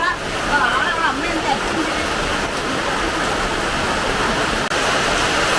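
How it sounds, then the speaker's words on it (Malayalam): Steady rain with wind rushing in a Pathanamthitta home setting, a dense continuous wash of noise holding even throughout, with a faint higher whistle near the start. "മഴയുണ്ട് കാറ്റുണ്ട്"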